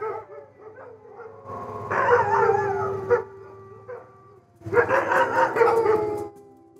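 Sled dogs at a mushing outing bark and howl in two loud, chorus-like bursts, with quieter yips and whines in between, close by and without talk.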